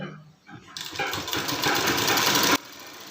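A sewing machine stitching a shirt pocket, starting up after a brief pause into a loud, steady mechanical whirring hum that runs for under two seconds, then stops abruptly, heard up close.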